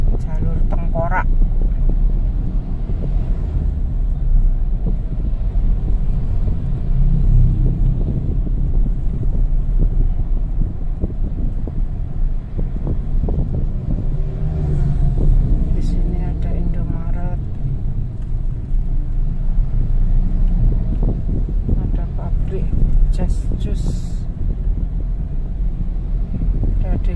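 Heavy trucks and large vehicles rolling past on a fast, busy road section known as a dangerous 'skull lane' near Kebraon, a continuous loud rumble with wind buffeting, and someone talking over it.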